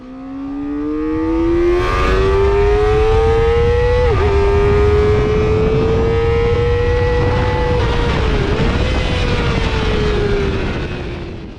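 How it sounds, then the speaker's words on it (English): A Kawasaki ZX-4RR's 399cc inline four-cylinder engine screams loudly and up close, its pitch climbing steadily as it revs toward 15,000 rpm, with two brief dips at gear changes before it pulls on and eases off at the end. "housed within that frame is this screamer of an inline 4-cylinder"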